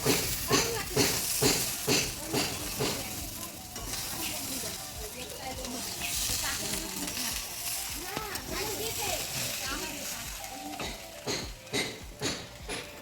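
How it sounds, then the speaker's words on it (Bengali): Potatoes fry in a little oil at a picnic, with a steady sizzle and scraping stirring strokes that are loud at the start and end, while people talk over much of it. "অল্প তেলে আলু ভাজা, বেশি তেল দেওয়া যাবে না"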